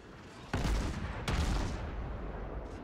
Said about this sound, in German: Jetzt kommen die ersten Schüsse und der dürfte ihn wegmachen.